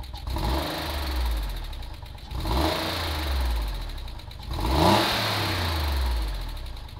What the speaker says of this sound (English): it sounds like a healthy air-cooled Porsche